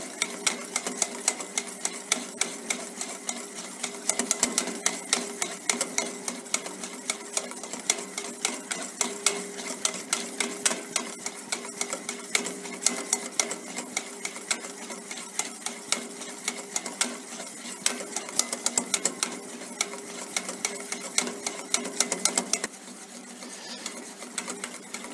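Rapid, steady clatter of a whisk against a bowl while oil is beaten into mayonnaise sauce, a dense continuous ticking rhythm at close range with no voices.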